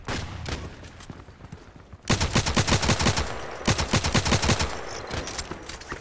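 Assault rifle fire in the shooter Contract Wars: short bursts at first, then a loud, rapid automatic volley of evenly spaced shots close up.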